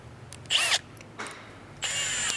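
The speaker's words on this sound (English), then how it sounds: "You'll use the larger 9/32 drill bit" Three short bursts of a high-pitched power drill whirring with a 9/32-inch bit, drilling through a base plate, each under a second, close by with quiet pauses between.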